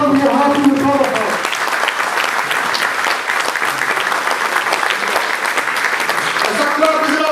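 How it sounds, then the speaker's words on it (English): An audience at a Pakistan Independence Day gathering in Dundee breaks into loud sustained applause, dense clapping throughout, with a voice speaking over the start and end. "Alisha, where you are, just come on the guys, and we'll clap for you, and we'll honor you"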